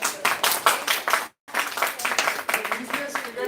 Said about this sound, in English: Round of applause, banta hai?